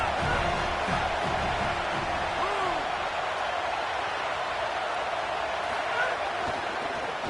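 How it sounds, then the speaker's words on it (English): Alabama college football stadium crowd cheering for the defense on a third down. A steady, dense roar fills the stands without letup, with some voices audible early on. "Big 3rd down as the crowd gets behind this defense."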